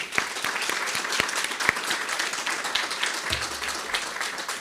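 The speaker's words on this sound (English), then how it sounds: "So let's just give a round of applause in their honor." At a school board meeting, an audience applauds honored middle school teachers: a steady, moderately faint wash of clapping with several sharp individual claps standing out and a low thump near the end.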